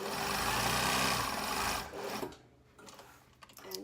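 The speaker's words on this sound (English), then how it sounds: "So just true it up again, make sure it's straight, and sew back the other side." A sewing machine stitches the bag of a welt pocket on a wrap garment, running loud and steady for about two seconds, then stopping, followed by faint handling sounds.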